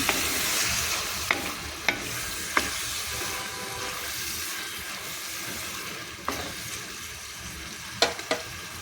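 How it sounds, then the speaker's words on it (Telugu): Onion paste fries for a fish curry with a continuous sizzle, punctuated by several sharp clinks of a spoon against the pan at irregular intervals, close and clear with no talking. "ఆనియన్స్ పేస్ట్ కూడా వేసుకున్నామండి ఇది కూడా మంచిగా ఫ్రై అయ్యేదాకా ఫ్రై చేసుకున్నాం"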